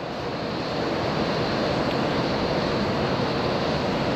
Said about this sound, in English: So you can see how much air movement there is just with the fans running.